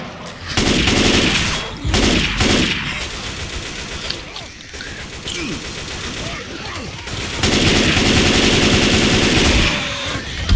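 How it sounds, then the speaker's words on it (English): M16 rifle firing in the video game Left 4 Dead 2, loud rapid bursts of automatic gunfire that cut in and out, with a quieter gap in the middle before heavy firing resumes. "God, I hate the M16 in this game."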